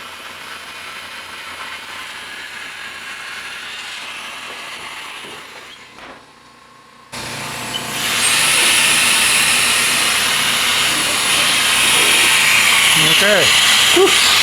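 A power tool cuts through plywood in a workshop, a loud steady grinding whir that dips briefly, pauses, then resumes louder and continues to the end.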